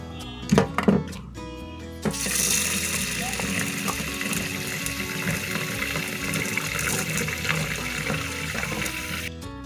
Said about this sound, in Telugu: దీంట్లో నీళ్ళు పట్టేసుకోవాలి.